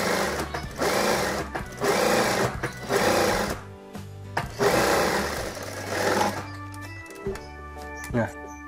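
A sewing machine stitches a child's dress in long whirring runs broken by brief pauses, loud and close, while someone talks over it between bursts.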